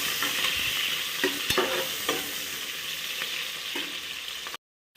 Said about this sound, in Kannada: ಈರುಳ್ಳಿ ಹಾಕ್ಕೊಂಡು ಚೆನ್ನಾಗಿ ಫ್ರೈ ಮಾಡ್ಕೊಳ್ಳೋಣ.